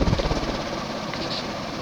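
A Union Gulf Star 52-inch ceiling fan motor running on high, giving a steady loud whirring hum with a faint low rumble throughout, close up with no talk.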